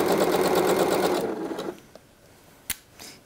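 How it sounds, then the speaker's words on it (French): A sewing machine stitches a coat seam, a steady loud run of rapid needle beats for about a second and a half before stopping, then a few faint clicks and a sharp knock. "Je fais des petits points d'arrêt et je pars en marche avant."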